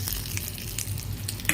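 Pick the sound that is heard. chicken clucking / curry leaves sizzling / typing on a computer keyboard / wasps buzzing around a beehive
curry leaves sizzling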